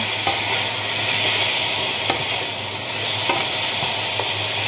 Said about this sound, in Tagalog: Sunod natin yung zucchini, slice na zucchini.